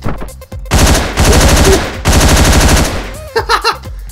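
Rapid gunfire in the video game Hotline Miami, two long, loud automatic bursts of crackling shots separated by a brief gap, followed by a few shorter, weaker shots near the end.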